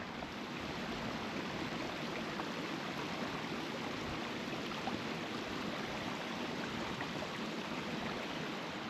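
A small mountain stream in the Mournes flows steadily, a close, constant broadband rush and gurgle of water with no pauses, no voices and an even level from start to finish.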